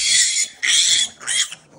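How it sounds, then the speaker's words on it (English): Kunekune pigs in a farrowing barn give loud, close grunting squeals in three bursts, with short pauses between them and no talking over them. "Hey, piggies. Everything all right in here?"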